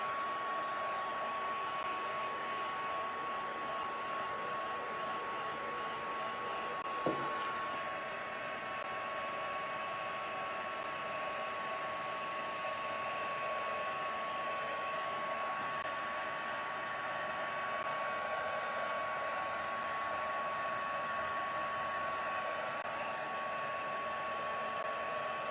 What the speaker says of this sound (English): Just heating up my heat tool.